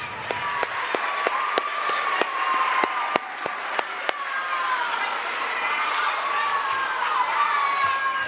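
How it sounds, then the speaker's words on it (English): At a junior high school awards ceremony, the audience breaks into a steady round of applause, with sharp individual claps standing out near the start over a continuous crowd clapping that carries on to the end. "Round of applause"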